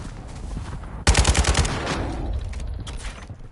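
A loud close burst of rapid automatic fire in Warzone 2, starting abruptly after a quiet moment and trailing off into echoing shots and scattered sounds.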